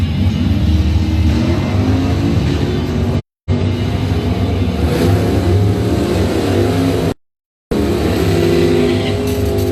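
A four-speed drag race car from Ford-themed Blue Oval Battle time trials roars loudly down the strip, its engine revving hard through gear shifts with brief breaks in the sound.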